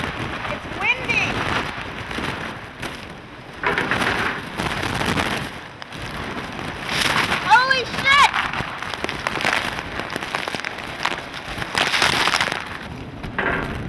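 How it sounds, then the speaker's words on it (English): Hurricane wind and heavy rain roar steadily through the whole stretch in waves of gusts, with a shouted voice cutting in near the start and again partway through. "It's windy."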